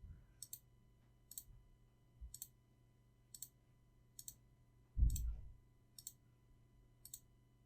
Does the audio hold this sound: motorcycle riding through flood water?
no